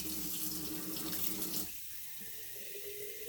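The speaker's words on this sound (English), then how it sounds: "So I just get the hot water going." Hot water runs from a sink tap in a steady, close hiss that drops to a lower, softer flow about halfway through, with no talking.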